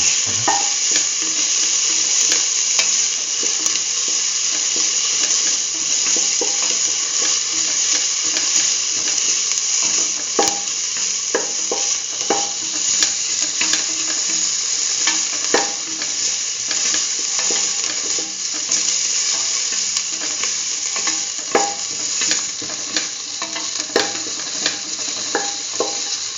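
Chopped onions and ginger sauté in a pan with a steady, loud sizzle, broken by frequent scraping and clicking stirs of a utensil against the metal throughout.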